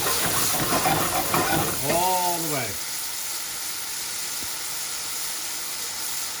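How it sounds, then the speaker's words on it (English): Steady sizzling and bubbling of wine reducing in a hot pan, with a brief spoken phrase near the start, then the simmering hiss continuing alone. "You can hear that pan reducing."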